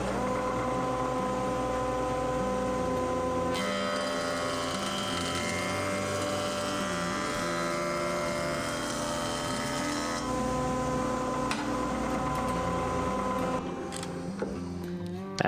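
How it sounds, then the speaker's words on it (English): A jointer and planer mill 8/4 black walnut, giving a sustained mechanical whine and hum with shifting tones as boards pass through, steady and continuous with no talk. "A few passes on the joiner, over to the planer, and then back to the joiner."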